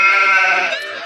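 A sheep gives a single loud, wavering bleat up close, lasting about a second and slowly fading.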